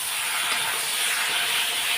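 Green-chili-heavy spice paste fries in a pan with a loud, continuous hiss and sizzle that holds steady throughout, with no voices.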